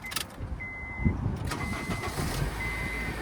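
A 2006 Honda Accord Type S engine cranks briefly and catches, then settles into a steady idle nearby. A thin electronic tone sounds during the start.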